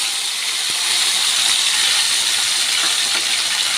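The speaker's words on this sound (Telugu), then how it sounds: "చూసారు కదా, చక్కగా ఫ్రై అవుతుంది." Two medium tomatoes sizzling in an oil tempering for an ivy gourd fry, a steady loud hiss of frying with faint occasional stirring.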